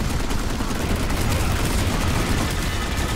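Loud, sustained automatic gunfire from a Planetside 2 battle, dense overlapping bursts with no pause.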